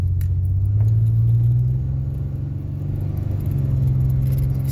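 A 1989 Chevy Celebrity with transmission trouble and a disconnected lockup solenoid, driven from inside the cabin: steady low engine and road rumble with a slight pitch drop and rise around a gear change, fairly loud and continuous, no talking.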